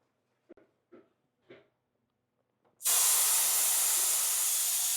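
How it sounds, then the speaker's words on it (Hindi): Pressurized gas bursts out of a second-hand air conditioner during a pressure check, a loud continuous hiss that starts abruptly after a few faint taps and clicks and holds steady to the end. "अगर ये जो आवाज आए इसका मतलब इसमें प्रेशर लोड हमने ऑलरेडी डाला हुआ है।"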